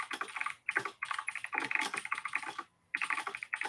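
Someone types on a computer keyboard close by, quick bursts of clicking keystrokes broken by short pauses.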